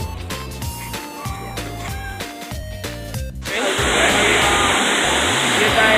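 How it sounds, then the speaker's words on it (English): Loud rush of flowing and splashing water at an indoor water park begins partway through and stays steady to the end, after a stretch of tonal background music. "this is the water park"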